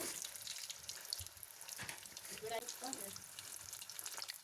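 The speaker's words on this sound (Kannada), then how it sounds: "ಈಗ ಒಂದೊಂದಾಗಿ ಎಣ್ಣೆನಲ್ಲಿ ಬಿಡ್ತಾ ಬರೋಣ." Samosas lowered one by one into hot oil bubble and sizzle faintly, with soft liquid crackling and a few light splashes heard at low volume.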